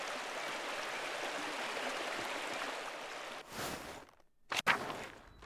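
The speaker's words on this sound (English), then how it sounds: "The waterfall is always so beautiful." A waterfall in the video game Pentiment gives off a steady broadband rush of falling water that runs for most of the moment. Near the end it drops away into a few short, sharp sounds, with a brief lull between them.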